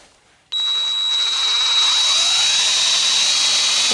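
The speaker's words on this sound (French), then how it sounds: "il va falloir percer le plus droit possible, hein, au milieu sur la pointe" Electric power drill boring a hole into the rear bodywork of a Citroën Traction 11B near the trunk hinges, starting abruptly and running steadily with a high whine, close and loud, alone.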